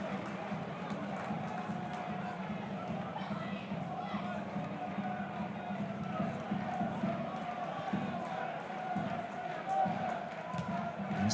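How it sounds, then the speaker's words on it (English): Home crowd at a Championship football match between Wrexham and Middlesbrough, a steady stadium roar of fans encouraging play, continuous and fairly distant beneath the broadcast. "being encouraged by the home crowd"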